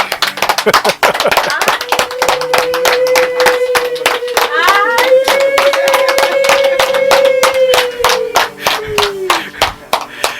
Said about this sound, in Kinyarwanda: amashyi menshi cyane kuri we